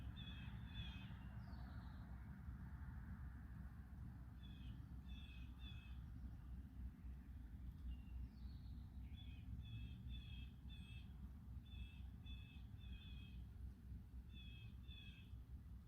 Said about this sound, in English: I really like the sound of blue jays and crows.